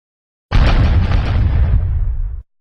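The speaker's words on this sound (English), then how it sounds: "So I'm going to fire those weapons now." Heavy weapons fire in a mech video game, a single loud explosive blast that bursts in suddenly, rumbles and crackles for about two seconds, then cuts off sharply.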